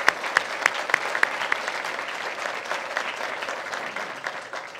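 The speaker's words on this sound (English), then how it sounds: "Can we give them a round of applause?" Audience applause at a county police crime-reduction announcement, a steady wash of many hands clapping through the whole stretch with a few sharper claps near the start, with no talking over it.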